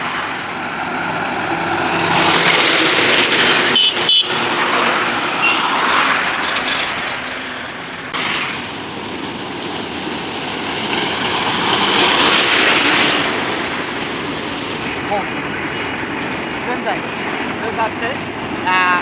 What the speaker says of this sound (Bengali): ট্রেন যাচ্ছে ট্রেন ট্রেন ট্রেন